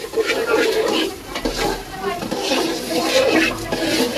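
Food fries in a pan during village biryani cooking, giving a close, irregular sizzle with stirring clatter. People talk over the cooking.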